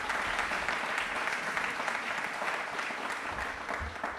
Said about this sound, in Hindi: तालियां प्लीज एक बार वापस से जोरदार होनी चाहिए प्लीज